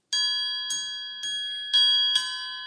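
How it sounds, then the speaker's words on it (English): A bell chime rung five times in a slow, even sequence, each bright, ringing strike sustaining and overlapping the next, loud and close with no talking. "You guys want to hear the bell, or do you like my chime?"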